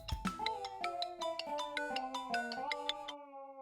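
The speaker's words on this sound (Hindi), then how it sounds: "देख, फोन आ गया।" A mobile phone ringtone plays a bright, repeating melodic tune for several seconds, clear and steady, then cuts off, with no voices over it.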